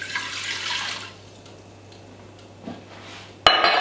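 Water runs from a kitchen tap in a broad hiss for about a second, then settles to a faint trickle, ending with a sudden louder splash of flow.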